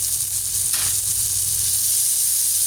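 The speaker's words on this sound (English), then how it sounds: "now I'm going to add some sliced julienne gingers, green chillies sliced" Julienned ginger and sliced green chillies hit hot oil with a steady, loud sizzle that holds throughout, a brief stir-like burst near the start and no talking.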